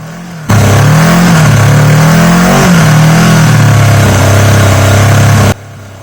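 A Mack truck engine revs hard to heat up its exhaust pipe: a loud, close, continuous roar that rises and dips in pitch as the throttle is worked, cutting in and out abruptly.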